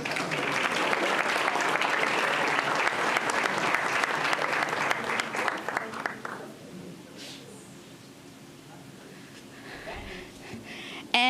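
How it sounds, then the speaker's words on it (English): Applause for a 12th-grade student at a school board meeting: a room of clapping, loud and steady for about six seconds, then thinning out into quieter scattered claps and room noise. "A round of applause for TJ."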